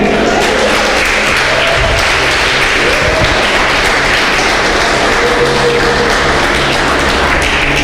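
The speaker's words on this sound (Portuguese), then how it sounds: "Aplauda o Senhor, querido." A church congregation claps in sustained, dense applause that fills the room loudly and evenly for several seconds, with faint voices mixed beneath the clapping.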